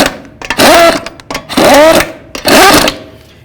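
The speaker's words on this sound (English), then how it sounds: "Start on all your lug nuts and then bottom them out." An impact wrench spins lug nuts onto a Ford Mustang wheel in three loud, whirring bursts of about half a second each, heard up close with short pauses between.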